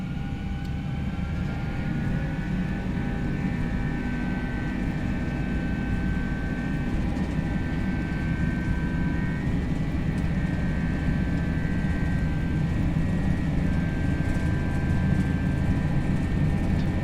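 Jet engines of an FSlabs A321 in a flight simulator hold steady takeoff thrust, a continuous loud broadband roar with a sustained whine on top and no talk.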